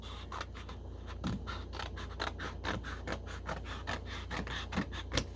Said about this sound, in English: I'm just going to cut it right down the side like this